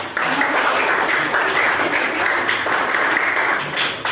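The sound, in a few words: applause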